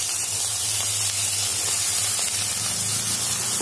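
Mint leaves hit a hot sautéing pan and sizzle, giving a steady loud bright hiss of frying that holds throughout with no pause and no talk.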